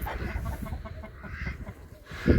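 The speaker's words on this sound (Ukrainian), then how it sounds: "Курі всі в сараї." Chickens cluck in short, scattered bursts nearby, with a muffled thump at the end.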